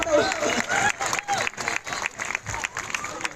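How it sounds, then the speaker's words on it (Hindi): Audience clapping at a village fair stage show, a dense burst of applause with crowd noise, a voice talking over it throughout. "जोरदार ताली बजाओ भैया"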